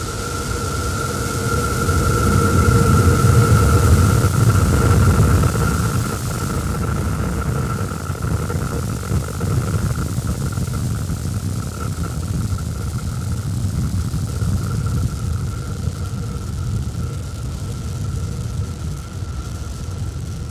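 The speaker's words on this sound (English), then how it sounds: "Starship test vehicle number 11 ascending over Starbase in South Texas." SpaceX Starship SN11 climbs away from Starbase in South Texas after liftoff, a broad, steady roaring rumble heard from a distance, loudest early and then slowly easing, with no voices.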